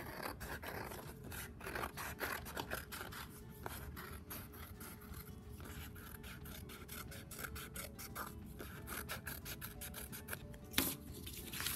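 Scissors cut out paper shapes for a collage, making a steady stream of close, soft snipping and rustling sounds with small rhythmic clicks.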